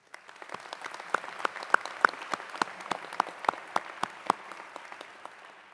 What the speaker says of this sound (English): join me in a round of applause for a great commencement speech by